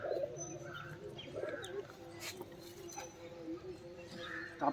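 White pigeons kept at home coo in soft, repeated throaty calls, close by, with faint chirps and light rustling in between and a voice murmuring in the background.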